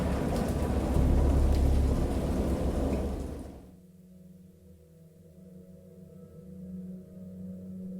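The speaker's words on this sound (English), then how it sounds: "Maybe it rains enough for the boat to float again?" Heavy rain and thunder in the Lovecraft-inspired horror game Dagon, a dense, loud downpour with a deep rumble that cuts off abruptly, leaving a quiet low drone with softer patter.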